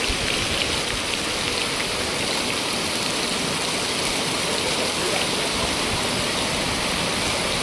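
Rainwater running along a path by a farm field during a heavy morning downpour, a constant dense wash of rushing water and rain with no break, loud and enveloping.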